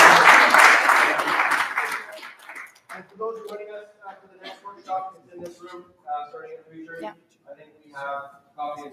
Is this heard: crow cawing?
no